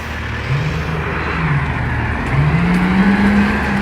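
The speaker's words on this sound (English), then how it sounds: "Okay, let this garbage truck go." A garbage truck rolls past on a suburban street in Thornhill, Ontario, its low engine drone rising and shifting in pitch as it moves by fairly close, with steady road noise and no talk.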